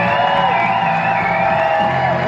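Baseball stadium crowd cheering, a short burst of continuous whoops and shouts held at a steady level throughout.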